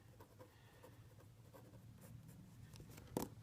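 A pen scratches out a date by hand on paper, producing faint, close, irregular strokes over quiet room tone, ending with a slightly louder tap.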